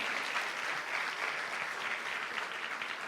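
A congregation at a church service claps together, giving a continuous, moderately quiet wash of applause with no voices over it.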